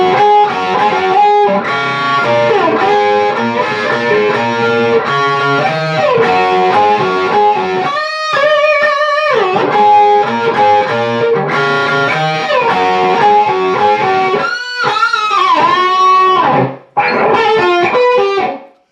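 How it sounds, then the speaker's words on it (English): Electric guitar plays two-note chords from a song with a distorted, effected tone, loud and close, in rhythmic phrases with brief pauses and whammy-bar bends near the end. "It's really nicely played diads or 2-note chords."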